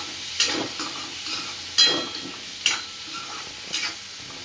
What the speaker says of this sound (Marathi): आता आपल्याला ह्याच्यामध्ये आपल्या कट केलेल्या शेवग्याच्या शेंगा घालून घ्यायच्या आणि याला छानपैकी मिक्स करून घ्यायचे